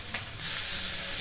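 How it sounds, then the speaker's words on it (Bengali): Pakoras fry in oil over a low flame, giving a soft, even sizzle that holds steady after a brief stir at the start. "গ্যাসটা কমিয়ে ভাজতে হবে, একদম লো ফ্লেমে, তবেই বেশ মুচমুচে হবে না পকোড়াগুলো।"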